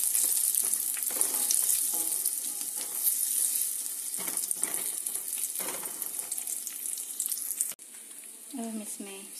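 A tablespoon each of cashews and raisins roasting lightly in a pan for suji laddu, a close, bright sizzle with occasional stirring scrapes and a brief clatter near the end.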